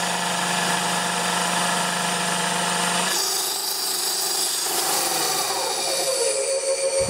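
Sanden compressor driven by a variable frequency drive at 90 volts and 90 hertz, just above idle: a steady electric whine and hum that shifts pitch midway, then wavers with uneven pulsing toward the end.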